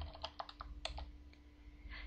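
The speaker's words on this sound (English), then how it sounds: "Typing alias on its own" Typing on a computer keyboard while working in a text-based MUD game: a few scattered key clicks early, then a quiet stretch with steady low hum beneath, close and moderately faint, no talking.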